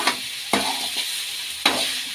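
Spring onions frying in a pan under a steady sizzle, broken by three sharp scraping stirs of a spoon against the pan.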